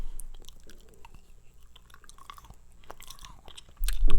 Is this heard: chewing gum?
yes